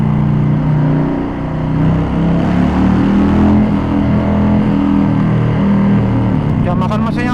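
A 2020 Harley-Davidson FXDR 114 with a Milwaukee-Eight V-twin runs close by with a deep, throbbing rumble that swells and eases as the throttle is worked, staying loud throughout.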